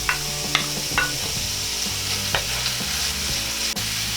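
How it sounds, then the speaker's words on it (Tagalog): Ginger and garlic sauté in a pan for a beef stew with shiitake mushrooms: a continuous close sizzle and crackle, broken by sharp scraping taps from stirring, with no talk. "pwede na nating isunod tong ating bawang"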